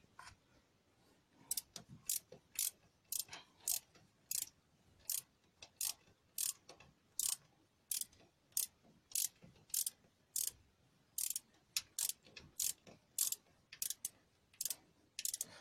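Ratchet tightening bolts on the timing chain guide of an Opel Corsa C 1.2 engine, a quiet, close series of quick clicking bursts repeated steadily with short pauses between them.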